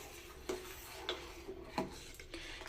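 A spoon stirs thickening rice payesh sweetened with patali jaggery in a steel bowl, giving quiet scraping rubs at about half-second intervals with soft clinks against the metal.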